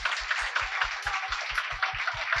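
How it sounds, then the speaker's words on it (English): An audience at a satsang anniversary gathering claps for bhajan singers and dancers, a close, steady applause with a regular rhythmic beat running through it, even in loudness and unbroken for the full stretch. "So one round of applause to all of them"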